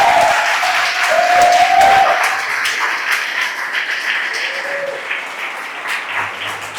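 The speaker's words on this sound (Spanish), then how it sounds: "Dan un aplauso al Señor." Church congregation applauding during a Spanish-language worship service, a full burst of clapping that fades slowly while faint musical tones sound under it.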